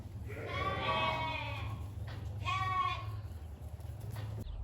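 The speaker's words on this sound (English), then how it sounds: "the two black ewes instantly went for the feed bunk" Black sheep ewes at a feed bunk, two loud drawn-out bleats in quick succession over a steady low background hum, with no talk.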